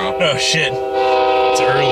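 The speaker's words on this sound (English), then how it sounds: "Oh, man, that's my train to Chicago tomorrow." A passing train sounds its horn about 20 feet away on a line heading toward St. Louis, with steady harmonic horn tones and rumbling under a man's startled exclamation.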